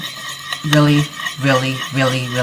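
A spoon stirs melted strawberry jam glaze in a bowl with soft, repeated scraping strokes at close range, under a voice talking.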